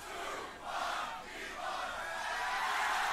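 Audience at the 2019 Grand Beatbox Battle shouting in unison in a few loud surging bursts, a crowd response called out together, heard without any talk.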